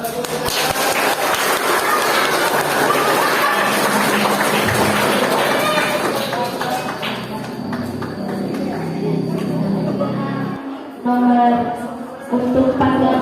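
Applause from an audience at a junior high school student council (OSIS) president and vice-president candidate debate, a dense, sustained wash of clapping with crowd chatter, growing sparser near the end.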